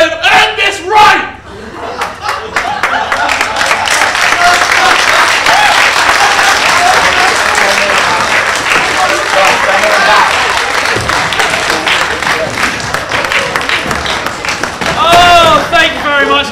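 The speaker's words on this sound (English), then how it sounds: "I would now like you to be upstanding and applauding again for everyone that you've seen perform this evening" A comedy show audience at a student arts festival bursts into loud sustained applause and cheering, dense clapping and whoops filling the room for over fifteen seconds.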